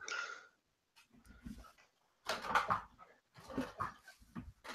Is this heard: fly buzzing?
no